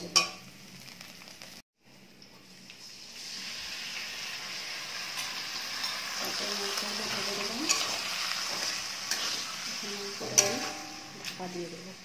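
Meat tipped into a pot and stirred while making biryani for a home-delivery order, heard as a brief knock followed by a rising, continuous sizzle with occasional scrapes and clinks, and faint talk underneath.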